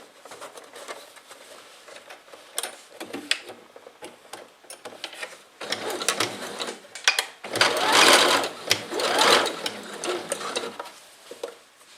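A sewing machine runs a French seam on fabric for an embroidered kimono poncho, with short bursts of stitching that stop and restart before a longer, louder run near the end. The machine sounds close, and nobody speaks.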